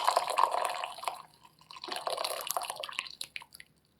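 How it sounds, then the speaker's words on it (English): Water poured fast over first flush Darjeeling Moonshine tea leaves, a close splashing, trickling stream that rises and falls in bursts before thinning out toward the end. "And I'm going to do a really fast"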